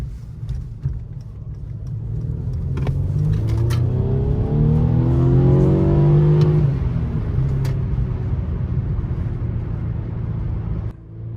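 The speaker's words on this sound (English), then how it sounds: "I did go foot to the floor on that. And that had a lot more get up than I thought 240 horsepower would." Mercedes-Benz C300 with a 240-horsepower inline-four pulling hard at full throttle, a loud steady engine drone climbing through the gears with rising whine before easing off near the end.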